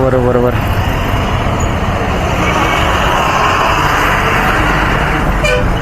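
Heavy Sunday traffic jams a Hyderabad road near Eco Park: a dense, constant roar of many cars, with a short horn toot at the start, and people talking over the din.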